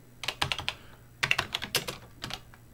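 Rapid bursts of keystrokes on a Tandy Color Computer (CoCo) keyboard, two quick flurries separated by a short pause, close and clear with no talking.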